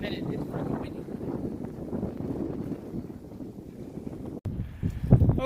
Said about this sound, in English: This wind's just getting heavier.